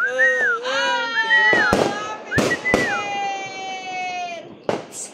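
Several sharp firecracker bangs at a New Year celebration pop out over a crying baby and excited voices, with a final crack near the end.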